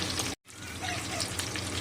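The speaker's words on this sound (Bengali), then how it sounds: "এখানে মাছগুলো ভাজা হচ্ছে" Rohu fish pieces fry in a pan with a steady, dense sizzle and crackle, briefly cut out once near the start, then continuing evenly.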